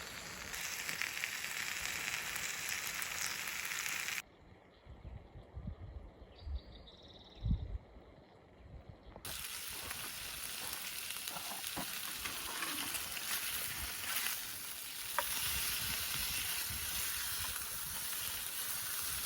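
Corned beef hash frying in a pan at a van campsite, a steady sizzle that drops away for a few seconds amid scattered clinks and faint outdoor sounds, then returns loud and continuous.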